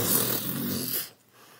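A voice imitates a loud huffing and puffing sound, one long breathy, rasping blow of air close to the mic that cuts off abruptly near the end.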